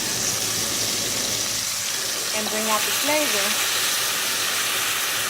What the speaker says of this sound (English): The reason for pre-frying my vegetables is to get the juices flowing